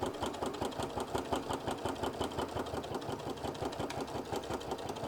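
A sewing machine back tacks along a stitch line, running at a steady, fast, rhythmic whir of needle strokes, close and continuous without speech.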